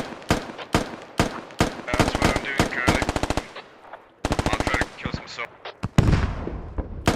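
Video game gunfire in SquadOps as US troops pour rounds downhill: loud, dense bursts of rapid automatic fire mixed with single cracks, coming in waves with brief pauses, while players talk over the shooting.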